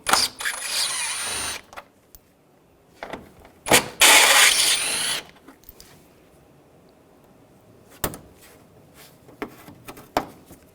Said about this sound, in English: Using the 10mm socket, take these bolts out.